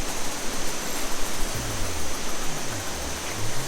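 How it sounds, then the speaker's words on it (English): Waterfall in Doi Inthanon National Park, Chiang Mai, giving a steady, loud broadband rush of falling water with a faint low hum running beneath it in the later half; no voices. "I think the waterfall is super beautiful."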